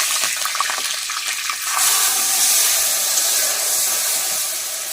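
Ground paste of cashew, melon seeds, black and white mustard and poppy seed is poured into a hot pan for mustard hilsa curry; near-quiet for a moment, then a loud, steady hissing sizzle erupts and holds.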